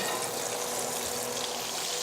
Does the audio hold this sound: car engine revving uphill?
no